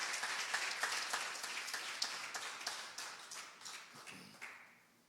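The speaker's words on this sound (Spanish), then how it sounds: "Dele palmas al Señor para ver si todavía sigue aquí" A church congregation claps during a Spanish-language sermon, a fairly quiet, loose rhythmic patter of many hands that thins out and fades toward the end.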